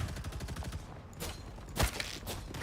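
Rapid automatic turret fire in a shooter video game, a fast string of loud gunshots with a sharper blast near the end and no talk over it.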